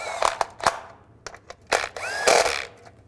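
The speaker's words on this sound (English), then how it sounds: "Tighten these bolts down." Turbocharger bolts on a 2007-2013 Mini Cooper S are tightened, heard as short bursts of ratcheting and metallic clicks with brief whirring spins, close by and separated by quiet pauses.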